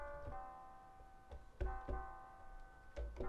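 A soft lo-fi melody on a close-miked stock grand piano in FL Studio, with a few gentle struck notes over a faint sustained chord and low thuds, quiet and mellow without any voice.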